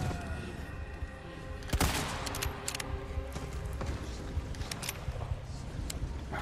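Gunfire in the survival horror game Resident Evil 4 comes through as a sharp loud shot followed by several quicker, lighter cracks and clicks, set against a low steady game ambience.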